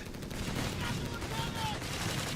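Machine gun and grenadier rifle fire in Company of Heroes 3, a continuous dense rattle of rapid shots with a commentator talking over it.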